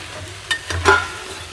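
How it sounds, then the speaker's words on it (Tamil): Drumstick pieces go into a pan of softened tomatoes and are stirred, with a few quick scraping and clattering strokes over a soft background sizzle. "நம்ம இப்போ முருங்கைக்காயை போட்டு கொஞ்சம் வதக்கிட்டு"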